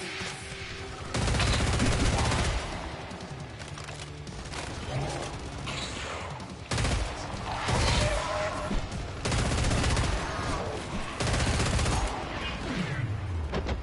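Gunfire in the video game Killing Floor 3 comes in loud, rapid bursts of automatic fire separated by short pauses, with heavy booms and mechanical clatter.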